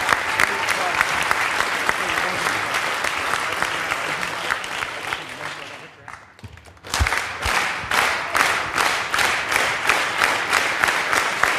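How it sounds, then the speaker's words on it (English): Crowd applause at a bowling trick shot event, dense clapping filling the room for several seconds, briefly dropping away before a fresh loud burst of claps and cheering returns, with some voices mixed in. "Ladies and gentlemen, huge round of applause."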